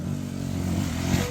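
Dirt bike engine revving hard on a trail as the rider pops a wheelie, a loud, close, continuous buzzing drone with rough mechanical rasp and no talk over it.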